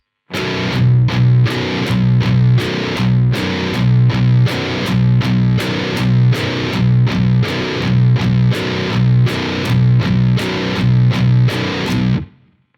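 Heavily distorted baritone electric guitar chugs through chunky palm-muted low power chords in a tight, repeating rhythm, loud and upfront, with no talking.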